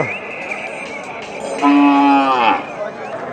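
A Sahiwal calf gives one loud, drawn-out moo in the middle, rising then falling, over a murmur of background noise and faint voices at a cattle market.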